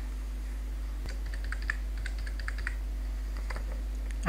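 Credentials being typed on a computer keyboard while signing in to a game launcher: a quiet, irregular run of light key clicks in short bursts over a steady low hum.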